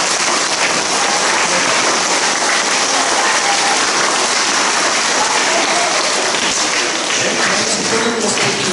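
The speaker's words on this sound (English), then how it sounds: "Would you like to applaud for having a Space World?" Loud, dense applause from a crowd of children outdoors at an elementary school playground dedication, sustained and rain-like throughout.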